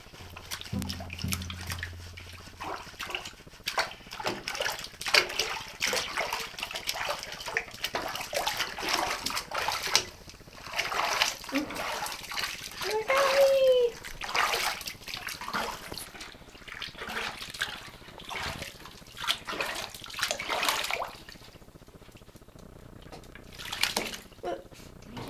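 Water splashes and pours in a bath while a skunk is washed, with repeated scoops and splatters in uneven bursts, fairly close, and occasional talk in between.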